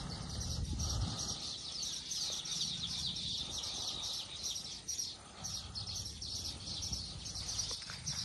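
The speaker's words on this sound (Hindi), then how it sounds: "जो प्यारी आवाज आ रही है ना चहचहाने की" Small birds chirping near a village pond and farmland, a dense, steady chorus of high twittering calls, faint and somewhat distant, without talk.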